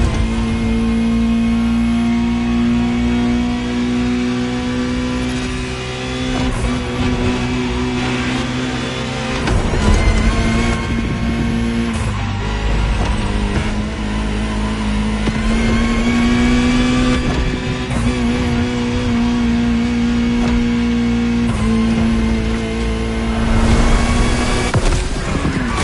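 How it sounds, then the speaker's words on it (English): A powerful Ferrari sports car engine drones steadily, rising and falling in pitch as it revs and shifts through gears, loud and close throughout. "Just listen to the car you're driving."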